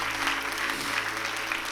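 A church congregation applauds during an evening worship service, a dense, steady wash of many hands clapping together that holds evenly from start to finish.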